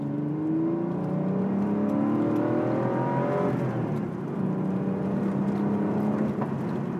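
Porsche 964 engine revving and accelerating, a loud continuous flat-six roar with rising harmonics that drop at a gear change midway, then climb again, heard alone.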